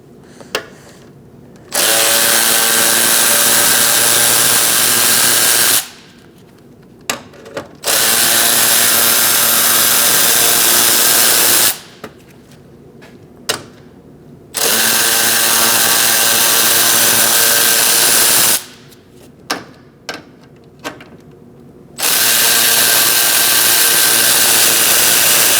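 A power tool driving a 7mm socket to remove bolts on a Chevrolet Cruz during AC condenser replacement, four loud sustained whirring bursts of several seconds each, separated by short pauses with small clicks.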